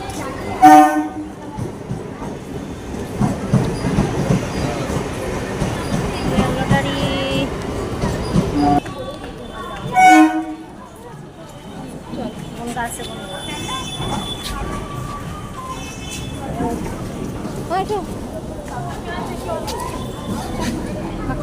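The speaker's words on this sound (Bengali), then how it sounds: "ট্রেন ঢুকছে" A train pulls into a station, rumbling and clattering steadily, with two loud horn blasts near the start and about halfway through. People talk nearby throughout.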